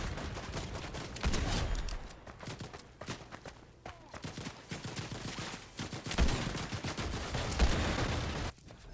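A Hunter's rifle in a video game fires amid a busy firefight, with repeated sharp shots and rapid bursts close by, while faint footsteps and other gunfire layer underneath.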